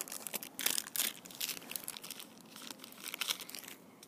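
Crinkling and tearing of a foil Moshi Monsters Moshling Madness trading card packet, a continuous close crackle with sharper rips throughout.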